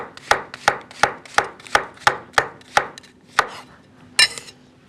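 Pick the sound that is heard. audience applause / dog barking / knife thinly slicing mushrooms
knife thinly slicing mushrooms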